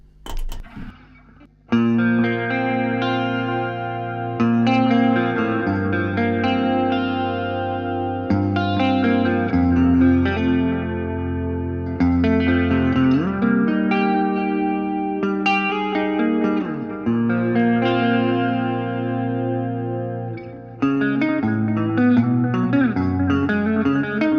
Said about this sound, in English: that's delay. Might add a little bit of chorus to that as well.